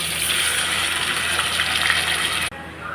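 Water gushes steadily into a cooking pan of tomatoes for noodles for a couple of seconds, close and loud, then stops abruptly.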